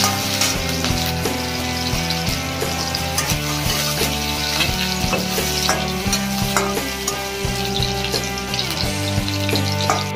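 Chopped ginger, garlic and green chilli fry in a pan with a loud, dense sizzle and crackle, joined by frequent clattering stirs throughout.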